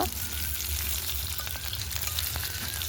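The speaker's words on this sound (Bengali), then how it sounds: "পটলগুলো একটু ভালো করে হালকা করে ভেজে নেব" Pointed gourd pieces frying in oil in a pan, a continuous even sizzle with faint stirring clicks, close and moderately loud with no talk.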